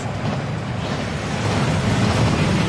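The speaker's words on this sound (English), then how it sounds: "That waterfall washes away all enchantments." A waterfall rushes in the Hogwarts Legacy video game, a dense, loud, steady roar of falling water filling the scene without pause.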